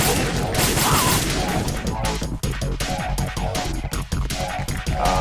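Rapid gunfire crackles in Metal Gear Solid 2: Sons of Liberty, dense volleys of shots with sharp smashing impacts running almost continuously, loud and close, with brief dips between bursts.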